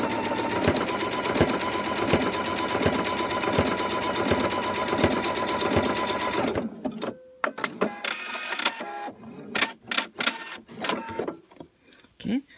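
A sewing machine stitching binding with a blind hem runs steadily and loudly for several seconds, then stops. Sharp handling clicks and a voice follow.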